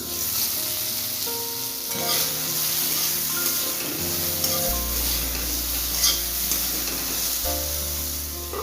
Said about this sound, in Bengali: বেগুনটা কতদূর ভাজা হলো দেখি